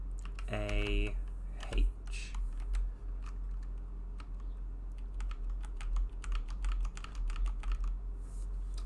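Typing on a computer keyboard during play of the game Blue Prince, a fast irregular run of light clicks and taps, close but fairly quiet over a low steady hum, with a brief electronic tone near the start.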